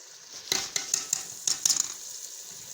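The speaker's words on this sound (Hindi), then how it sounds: "अब मैं ना इसे ना 2-3 मिनट भूनती हूँ मसाले को अच्छी तरह" Spices for a fish curry masala, including turmeric, salt and cumin, fry in a pan. A steady sizzle runs underneath while a spoon scrapes and clinks in several sharp strokes, close up and with no voices.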